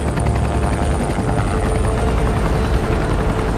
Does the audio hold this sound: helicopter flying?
yes